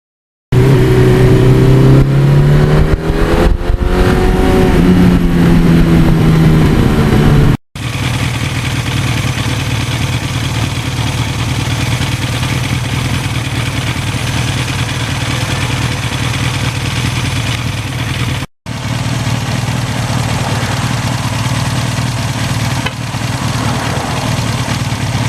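A 1982 Suzuki GS1100E superbike engine revs up and down several times, then settles into a steady, loud, close-up idle with a deep even rumble that continues for the rest of the stretch.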